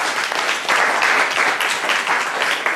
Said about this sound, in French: on va franchement applaudir cette équipe encore une fois